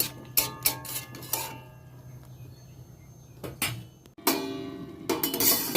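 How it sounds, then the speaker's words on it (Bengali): A metal lid set onto a cooking pot while vegetables with spinach cook, giving a few sharp clinks and clatters near the mic, with quieter kitchen handling between. "আমি একটা ঢাকা চাপা দিয়ে দেব"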